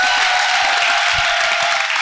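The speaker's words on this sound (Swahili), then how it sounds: "Pigia Mama Maria makofi." A church congregation claps steadily in dense, sustained applause for Mother Mary, filling the whole short stretch at close range.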